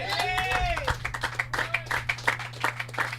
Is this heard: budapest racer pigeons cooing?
no